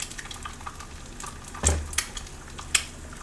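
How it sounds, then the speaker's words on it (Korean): Eggs are stirred and broken up like scrambled eggs in a sizzling frying pan for egg fried rice, with a steady close frying hiss and a few sharp spatula scrapes and taps against the pan. "이건 이렇게 스크램블처럼 터트려도돼요"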